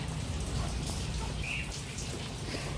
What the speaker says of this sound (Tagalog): Maulan nga ngayon mga ka-backyard.